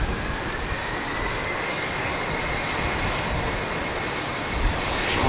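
An Embraer airliner taking off at Amsterdam Schiphol Airport, a steady, broad, loud jet engine roar that holds constant throughout with a faint rising whine, heard from a distance without any voices.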